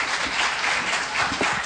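Sustained applause from an audience at a legal conference session after a speaker's intervention, a continuous even clatter of many hands, moderately loud and unbroken, with no voices over it.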